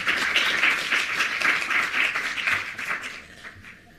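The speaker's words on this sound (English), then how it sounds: "We can encourage you and give a clap of hands." An audience at the IST-Africa Conference 2023 claps in dense, fairly close applause that stays steady for a few seconds and then thins and fades out.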